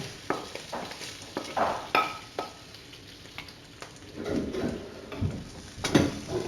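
Ingredients for risotto being stirred in a pan that isn't smoking hot, with scattered utensil scrapes and clicks over a low, steady sizzle, louder bursts of stirring near the end.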